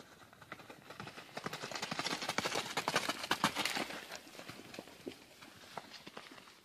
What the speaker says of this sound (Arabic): وهذا الحصان يرفض استقبال الضيوف.